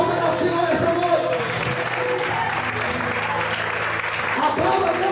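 A church congregation applauds at an evening service, steady hearty clapping filling the room continuously, with voices and a few shouts mixed in under the clapping.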